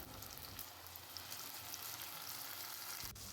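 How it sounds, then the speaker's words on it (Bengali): Chopped tomato hits ginger, garlic and onion frying in a wok for aloo dum, giving a steady soft sizzle with faint stirring and a small bump near the end. "কড়াইতে আদা রসুন পেঁয়াজ যখন ভাজা হয়ে যাবে টমেটো কুচিগুলো এর মধ্যে দিয়ে দিলাম"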